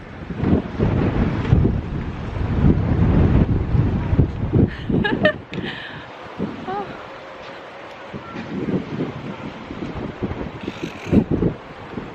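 Gusting wind blows sand across an open outdoor spot, roaring steadily into the microphone and easing off later, with a few faint rustles and a brief clatter partway through.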